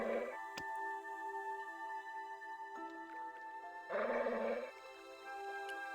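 A dog barks in the Broken Sword 2 remastered adventure game, with two short barks near the start and near the end set against quiet, sustained musical tones.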